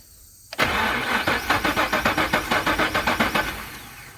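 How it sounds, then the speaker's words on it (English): A Monte Carlo engine cranks without catching on a weak battery: a rapid run of about fourteen even, rhythmic starter pulses, close and loud, then it stops abruptly. "I'm gonna try to crank, see if we still have voltage while we're cranking."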